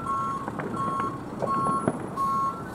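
A tiller fire truck, Alameda County Truck 17, backs up while parallel parking, its reversing alarm sounding steady repeated beeps over a low engine rumble.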